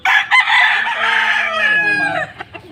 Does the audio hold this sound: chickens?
yes